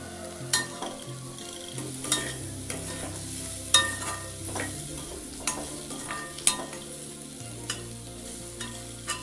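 Baby potatoes with chilli fry over a low flame in a steady gentle sizzle, with frequent clinks and scrapes of a spoon stirring against the pan.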